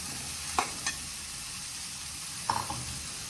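Ivy gourd pieces fry in a pan with a constant, even sizzle, and two pairs of short spoon scrapes cut through as they are stirred.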